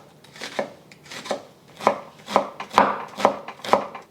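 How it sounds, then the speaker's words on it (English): Knife chopping half an onion on a cutting board: clusters of crisp, close blade strikes in an uneven rhythm, growing quicker and louder toward the end, with no talking. "I am using half of an onion that I'm going to slice up and chop"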